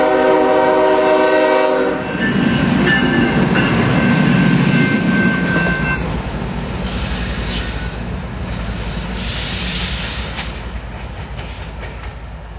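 A CN locomotive, number 566, running light with no wagons at La Tuque, Quebec, sounds a loud sustained horn blast, then rumbles past close by with steady rail clatter fading slightly toward the end.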